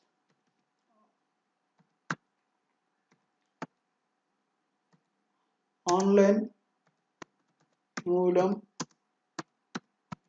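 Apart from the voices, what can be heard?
typing on a computer keyboard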